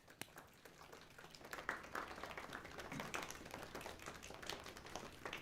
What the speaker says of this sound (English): Can I get a quiet applause?